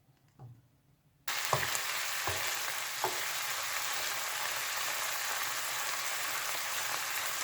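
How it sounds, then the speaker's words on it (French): Lardons and onions fry in a preheated pan, a steady broadband sizzle that starts abruptly after a quiet second and holds loud and even, with a few soft utensil taps over it. "on va ensuite passer à la cuisson des lardons et des oignons"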